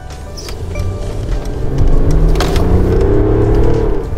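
A Mercedes-Benz S400d Long diesel sedan accelerates briskly in city traffic, with a low engine drone that rises steadily in pitch and loudness under cabin and road noise.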